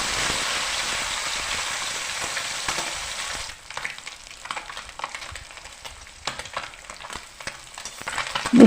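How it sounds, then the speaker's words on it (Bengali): Topse fish frying in hot oil, a loud dense sizzle for the first few seconds that drops to a quieter, crackling fry with scattered pops and stirring scrapes. "তেলটা খুব ভালো গরম হয়ে গেছে, এতে আমি মাছগুলো দিয়ে দিচ্ছি। অল্প অল্প করে ভেজে নেব এইভাবে।"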